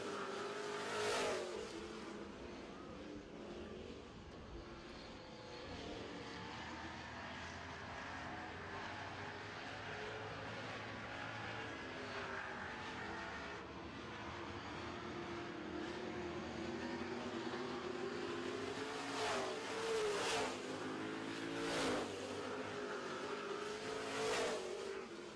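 Super trucks race for second place on an oval racetrack, several engines roaring steadily throughout with rising and falling revs as trucks pass close by, loudest surges near the end.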